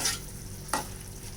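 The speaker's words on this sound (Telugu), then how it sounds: "అన్నీ వేసేసుకుని కలిపేద్దామండి. ఒకసారి కలిపేసుకుందాం." Masala stirred into a dried fish curry in a pan, with a soft scraping stir at the start and another brief spoon stroke midway over a low, steady background.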